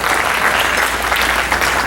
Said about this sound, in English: So give yourselves a hand of applause.